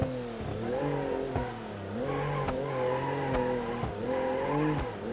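A car drifts through a parking garage in the BeamNG driving game, played on a steering wheel; the engine revs loudly and continuously, pitching up and down, with tire squeal woven through it and brief sharp clicks.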